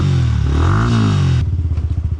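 A motorcycle engine running loud and close, a smooth drone that shifts into a rapid pulsing idle thump toward the end, with no voices.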